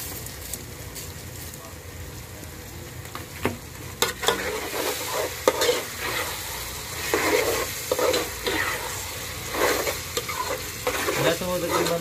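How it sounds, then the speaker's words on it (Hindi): Garlic and whole spices such as bay leaf, black pepper, cloves, cumin, dried red chilli and cinnamon fry in a pan for a bitter gourd dish, a steady close sizzle broken by clattering spoon stirs, with no voice. "लहसुन को तकरीबन 2 मिनट हमने फ्राई कर लिया है।"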